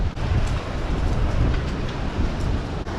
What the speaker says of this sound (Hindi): फिर से बारिश स्टार्ट हो गई है गाइस, और अभी सुबह हुई है। बहुत तेज़ की आंधी चल रही है